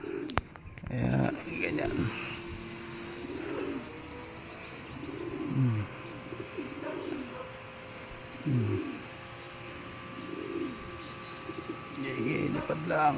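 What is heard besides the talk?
pigeons cooing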